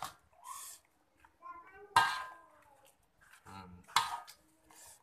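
Cooked instant noodles being lifted out of a pot and moved into a bowl, with a couple of sharp metal-on-ceramic clinks and light clatter between stretches of talk.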